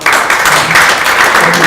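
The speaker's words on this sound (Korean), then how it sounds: "우리 한번 박수 한번 해줍시다" Audience applause at a lecture on the past and future of Korean nuclear power, a dense continuous wash of clapping filling the whole short stretch, loud and close throughout.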